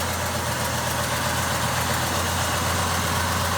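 Matching-numbers 1970 Chevelle SS454 with its LS5 454 V8 idling under the open hood, a steady, loud, close rumble with a dense even texture.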